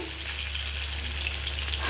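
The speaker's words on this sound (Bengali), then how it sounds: "ওই যে মাছ ভাজা হয়ে গেছে কী হারে ফাটলো মাছটা" Close, loud, steady sizzling of scaleless fish frying in hot oil, with crackling spatters throughout.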